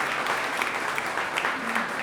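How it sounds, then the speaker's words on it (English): An audience claps steadily and evenly through the moment, a dense patter of many hands at a live podcast conversation with a chef, with no talk over it. "Yes, you can clap."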